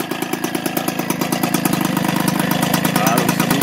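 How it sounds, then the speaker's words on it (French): Motobécane 103 MVX moped with an expansion exhaust idling close by, a fast, even two-stroke putter with a buzzy rasp, steady and loud throughout. "Donc très joli bruit, je trouve, pour ce pot"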